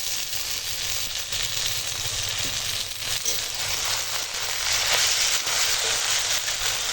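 Ginger-garlic paste and chopped tomato go into a pan of fried onions and green chillies for dry chicken, sizzling loudly and steadily with scattered crackles throughout, no voices.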